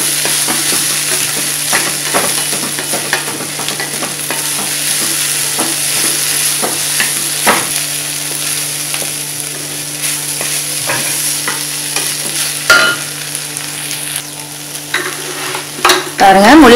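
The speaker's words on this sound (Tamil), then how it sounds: "பாருங்க, முள்ளங்கி வந்து நல்லா வதங்கிடுச்சு" Radish sautéing in a hot pan for chutney, a loud, continuous close sizzle with frequent scraping stir strokes, growing busier and more clattery toward the end, with a steady background hum throughout.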